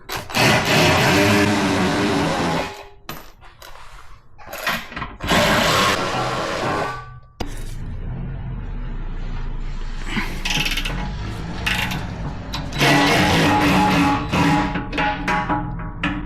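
Bolts on a Ram TRX skid plate being loosened and removed with a ratchet, giving bursts of mechanical clicking and whirring separated by pauses, loud and close, with no talk.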